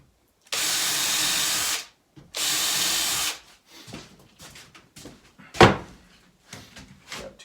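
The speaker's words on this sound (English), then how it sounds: "And I'm just going to pre-drill." A power drill pre-drills holes in wood for a DIY planter box made from fence boards, with two long steady whirring runs, then scattered knocks and clunks of tools and lumber being handled nearby.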